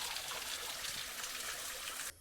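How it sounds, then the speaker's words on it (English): A small waterfall in Krabi, Thailand pours continuously as a close, steady rush of splashing water. The sound then cuts off abruptly near the end. "We found the waterfall. It's a really small one"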